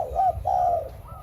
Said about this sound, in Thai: ได้ยินนกขันอยู่บนหัวเรียกเลยนะครับ